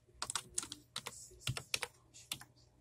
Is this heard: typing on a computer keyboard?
yes